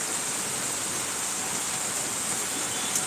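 Heavy downpour roaring steadily and close, a dense hiss of rain on a roadside with vehicles passing, the wash continuous and even throughout with no speech.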